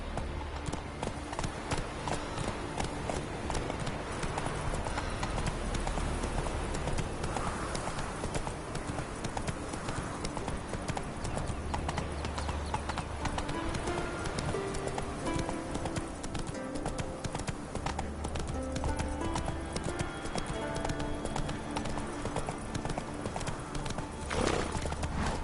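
Hooves of Roach, a horse in a PS4 video game, clip-clop steadily and continuously throughout, with occasional neighs over a busy musical game soundtrack.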